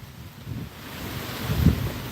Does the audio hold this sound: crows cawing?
no